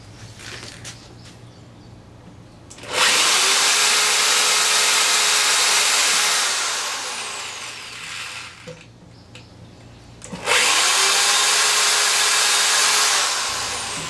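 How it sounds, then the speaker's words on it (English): A power drill bores out tap holes in wood for a DVD cabinet, running in two long loud bursts separated by a quieter pause, with low background hum throughout. "now we'll get my drill out those tap holes a little bit."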